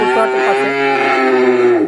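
A single long, loud moo from a nearby heifer at a dairy farm in Ishwardi, Pabna, drawn out for almost two seconds.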